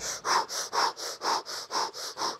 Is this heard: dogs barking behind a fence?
no